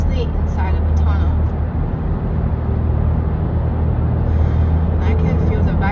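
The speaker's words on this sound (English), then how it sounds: "Sports cars, very noisy, and especially inside of a tunnel." Loud, steady roar of sports cars driving through a road tunnel, a dense low rumble sustained throughout with no pauses.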